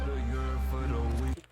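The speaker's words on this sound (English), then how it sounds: "So now it will sound very muffled." Sustained tonal music with a low-pass filter applied, leaving a dull, muffled sound with softened highs; steady and fairly loud before cutting off abruptly near the end.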